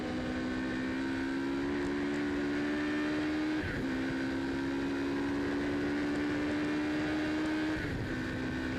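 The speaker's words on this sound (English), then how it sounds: "Absolutely fabulous pace from these nearly 50-year-old sports cars." Nearly 50-year-old 2-litre sports cars racing at Silverstone, engines screaming continuously at high pitch, with the tone dropping at gear changes around every few seconds, loud and close with no talk.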